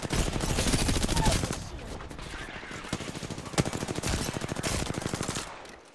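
Rapid automatic gunfire in Apex Legends, long bursts of fast repeated shots with a sharp louder crack midway, continuing close and loud.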